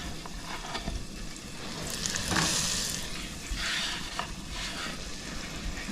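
A big sausage sizzles and spits in a hot frying pan. The frying crackles steadily throughout, swelling briefly in a couple of bursts, with no voices.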